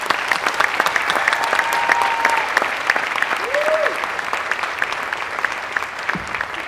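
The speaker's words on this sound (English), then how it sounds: "One last round of applause for our graduating seniors" Audience applause at a Native American student recognition ceremony, honoring graduating seniors: dense, steady clapping from a large crowd throughout, with a brief tonal whistle or call rising over it.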